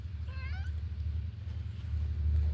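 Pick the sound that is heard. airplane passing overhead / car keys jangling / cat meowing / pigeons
cat meowing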